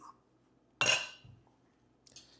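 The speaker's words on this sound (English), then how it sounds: "I would say add either 2 or 3 ice cubes in there." Ice cubes dropped into a cocktail shaker while making a ginger gin cocktail, heard as one sharp, bright clatter and then a faint follow-up clink, close and otherwise quiet.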